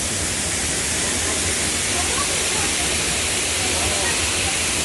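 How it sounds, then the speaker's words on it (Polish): Dense, steady rushing water roars without pause, loud and close, from a waterfall in central Tbilisi, Georgia. "Wodospad."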